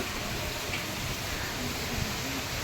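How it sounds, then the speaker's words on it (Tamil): Heavy rain driven by wind pours down in Chennai, a dense, unbroken hiss at moderate loudness throughout. "சரியான காற்று சரியான மழை பயங்கர ஒரே ஒரே இதுவாக இருக்குங்க சென்னையில்"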